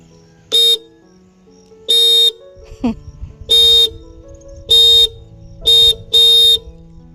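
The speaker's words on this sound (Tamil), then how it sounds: "இந்த ஹாரன் ரொம்ப பிடிச்சிருக்கு" A scooter horn beeps six times in short, loud bursts, separated by brief pauses, with faint road noise and a passing rumble in between.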